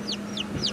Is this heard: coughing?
no